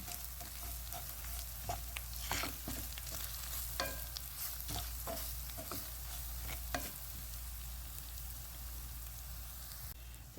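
Whole masala and spice powder being stirred in a hot pan for a mutton dish, with steady sizzling frying and repeated scraping strokes of a spoon against the pan, close and moderately quiet.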